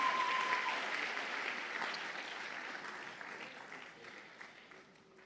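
A church congregation applauding during a sermon, a dense wash of clapping from many hands that starts full and slowly fades over several seconds.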